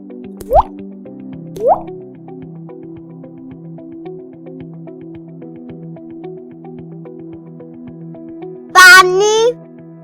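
Pebbles dropped into water in a pot, two separate bright plops about a second apart over soft background music, then a short sharp call near the end.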